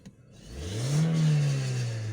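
Renault Scenic 2 engine with a running fault, revved once as the gas pedal is pressed: a single rising, swelling engine roar that holds, then eases slightly, heard close and alone.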